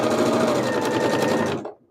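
A sewing machine runs fast and steady, stitching the last seam of a quilt with a rapid, close mechanical chatter that stops abruptly near the end.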